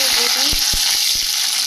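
A whole tomato with fried vegetables, bay leaves and five-spice seeds sizzles in hot oil in a pan, a loud continuous hiss punctuated by several sharp spattering pops up close.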